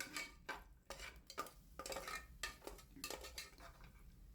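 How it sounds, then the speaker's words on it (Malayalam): Cashews and raisins roast in hot ghee inside a pressure cooker, with a spatula scraping and clinking against the metal in a steady stirring rhythm, close up, with no talk. "ചൂടായി വന്ന നെയ്യിലോട്ട് അണ്ടിപ്പരിപ്പും ഉണക്കമുന്തിരി ഇട്ട് കൊടുക്കാം"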